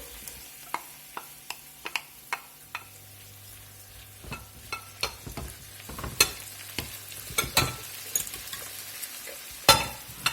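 Mushrooms sizzle and crackle in a pan while a utensil clinks and scrapes against it in irregular taps, growing busier toward the end; no talking.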